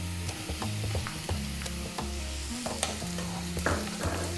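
Ginger and onion stir-fry over high heat in a busy, crackling sizzle, punctuated by repeated sharp scrapes and clanks of a utensil against the pan.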